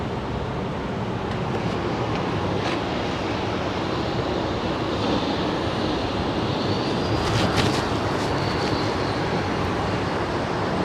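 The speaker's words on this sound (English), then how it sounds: "I believe up next for takeoff is a Airbus A220." An Airbus A220 taking off at Sky Harbor International Airport: a steady, loud broadband jet roar that fills the whole stretch, swelling slightly near the end, with no talking.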